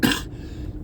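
One short, sharp cough from an adult recovering from a cough, loud and close, followed by a brief quiet trail with no speech.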